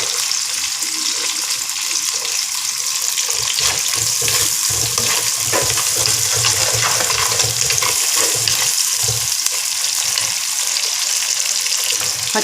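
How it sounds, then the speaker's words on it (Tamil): Shallots and garlic frying in a pan for a stingray fish curry, a steady close sizzle with some stirring and watery clatter running throughout. "சின்ன வெங்காயம். அதோட பூண்டியை போட்டுருவோம்."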